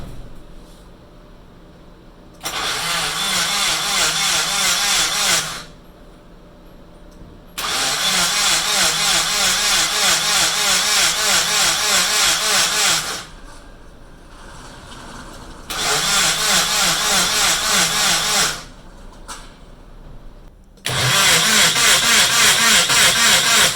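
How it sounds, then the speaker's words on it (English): Nissan KA24DET engine cranked on the starter in four separate bursts of several seconds each to build oil pressure, a loud, close, rhythmic churning whir that stops cleanly between attempts, with quieter pauses in between. "let's start cranking and see how long it takes for this pressure to build."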